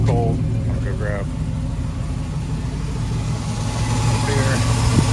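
A 1977 Ford F250 pickup's V8 engine idles steadily on a cold start with a low, even rumble throughout, while someone speaks briefly near the start and again near the end.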